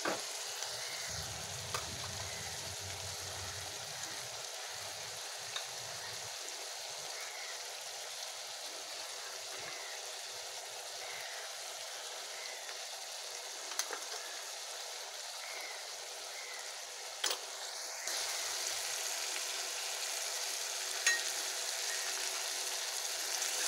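Ginger-garlic paste fries in a pan with tomato and salt, a faint, steady sizzle and crackle with a few stirring scrapes, heard alone and quietly at a distance.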